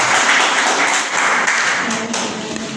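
A church congregation applauds for sister Maya, a loud, continuous sheet of clapping that stays steady and fairly close throughout.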